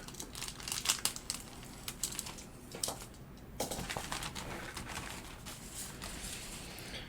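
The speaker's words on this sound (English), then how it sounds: "there's a bag which we can open up" A plastic bag of chrome-plated parts from a 1951 Chevy Bel Air model kit crinkles close by in irregular bursts as it is handled and opened. A brief pause comes midway, followed by steadier rustling.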